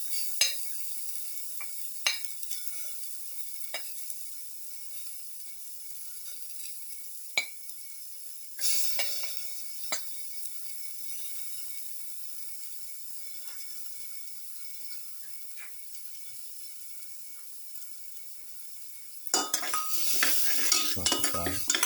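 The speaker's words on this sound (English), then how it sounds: "Saute garlic." Garlic with curry leaves sautéing in a pan for a pepper beef cashew stew makes a faint, steady hiss with sparse utensil clicks, then a louder burst of scraping and sizzling near the end.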